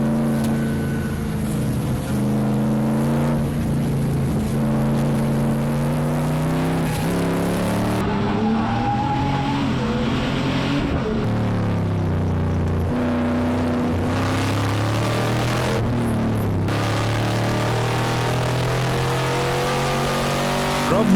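Race cars at speed during an endurance race at Dezzi Raceway, a BMW and the 38 Cobra among them, engines droning loudly and continuously with rising and falling pitch as they shift and pass, some at a distance.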